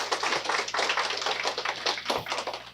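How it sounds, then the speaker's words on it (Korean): Audience applause welcomes a professor speaking at an international academic seminar on integrated health care. Brisk, rapid clapping from a modest crowd runs continuously and evenly throughout, close and fairly loud. "그럼 큰 박수로 맞아주시기 바랍니다"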